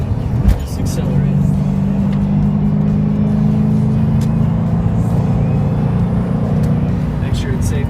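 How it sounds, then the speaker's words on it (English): A car downshifted from fifth into fourth gear accelerates to pass another vehicle, its engine a steady loud drone from inside the cabin, with a brief knock near the start. "To pass this car in front of me, I'm going to drop it into fourth and just accelerate."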